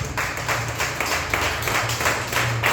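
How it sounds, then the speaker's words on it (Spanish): A church congregation claps in rhythmic, pulsing waves at an evening service, with a steady low hum underneath. "Dale un aplauso a Dios en esta noche"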